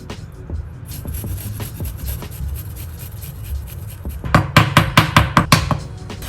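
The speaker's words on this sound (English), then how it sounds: "With a grater, grate the ginger." Fresh ginger is rubbed against a kitchen grater, giving soft scraping strokes that turn into a quick run of louder, rhythmic rasps near the end, heard up close.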